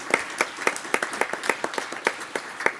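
Applause at a school board meeting honoring Westview High School's national counseling recognition: a small room of people clapping in a steady, moderately loud rhythm of distinct hand claps, with no voices over it.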